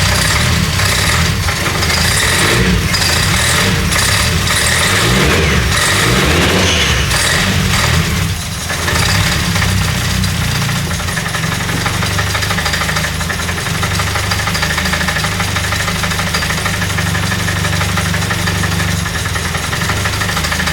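A car engine with retarded ignition timing, set on a MegaSquirt controller, runs choppy and uneven, knocking and loping loudly up close. It settles into a steadier low idle partway through.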